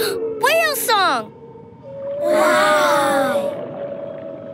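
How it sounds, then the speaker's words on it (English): Humpback whale song: a loud, deep moaning call with sweeping, rising and falling tones, sounding alone at first and returning in a longer swelling phrase with layered harmonic whoops. "Whale song!"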